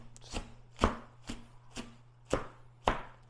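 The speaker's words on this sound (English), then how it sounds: "You're literally just roughly chopping this thing." A kitchen knife roughly chops food on a board during meal prep: six sharp, close, evenly spaced cuts with a steady low hum underneath.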